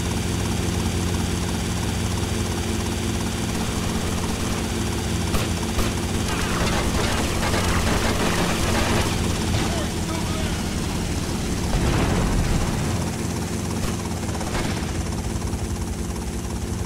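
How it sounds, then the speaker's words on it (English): A helicopter flies in the video game GTA Vice City, its steady, loud rotor drone and engine hum continuing throughout, with a few louder swells partway through. "Suspect lost him in a white helicopter."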